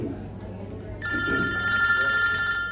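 A phone rings indoors during a conversation, its bright repeating electronic tone starting abruptly and continuing steadily over faint background voices.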